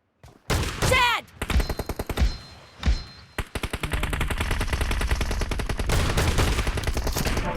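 Gunfire in the mobile battle game BGMI, with rapid machine-gun bursts and single sharp shots, then a sustained stream of automatic fire, loud and close.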